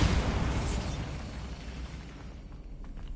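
A Bombarda blasting spell going off in a Harry Potter video game: a broad, roaring explosion that starts loud and decays into a rumbling tail over a few seconds, with no talking.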